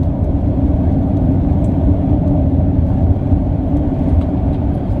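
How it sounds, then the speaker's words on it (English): Steady engine rumble and road noise inside a car driven by a road tech on the way to a customer's location, a continuous even drone with no talking. "As you can see, I'm driving to a customer's location"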